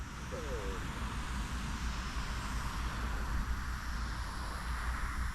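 Constant buzzing drone of a small model airplane engine running steadily, fairly distant and moderately loud, with no speech over it.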